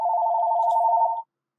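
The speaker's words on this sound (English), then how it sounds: "You made Craig's phone ring" A phone rings inside a video game, a steady electronic trill that plays loud and alone for just over a second before stopping abruptly.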